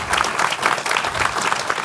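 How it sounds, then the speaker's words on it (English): A room full of listeners claps for a panel at a talk, a brief, even burst of close, steady applause with no pause. "give a round of applause to our panel."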